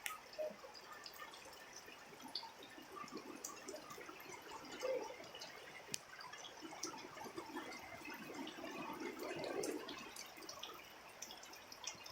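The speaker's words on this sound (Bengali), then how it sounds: "এক ঘন্টা থেকে বৃষ্টি পড়ছে।" Rain falling steadily for a long spell, with a soft continuous patter and nearby runoff water flowing like a small stream, occasional louder drips standing out against the wash; no voices.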